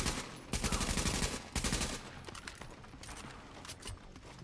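Sustained machine gun bursts aimed at a turret in Tom Clancy's The Division, loud rapid volleys in two strong pulses followed by quieter continuing fire, with no talking.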